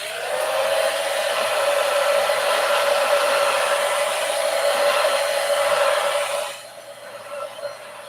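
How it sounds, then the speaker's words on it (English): A hair dryer blows steadily on wet paint on an art project, a loud, even whoosh with a faint hum. It runs for about six and a half seconds, then cuts off, leaving quiet room noise. "Blow dry alert."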